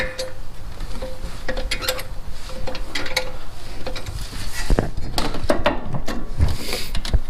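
A car jack clicks and ratchets while being raised under a Mitsubishi Evo X, repeated metallic clinks and mechanical clatter in a steady rhythm, close up.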